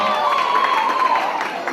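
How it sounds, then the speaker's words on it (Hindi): A crowd at a wedding sangeet gives steady applause for the bride, mixed with cheering and raised voices, a dense wash of noise lasting under two seconds. "फिर भी हिना से जोरदार ताली बजा दीजिए"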